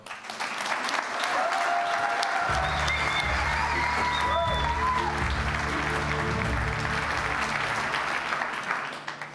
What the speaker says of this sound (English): A round of applause for Matéo.